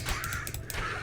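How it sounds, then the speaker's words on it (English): Harsh crow-like caws sound in a quick burst of a few calls, moderately near, over faint background noise. "Oh, birds are really having it."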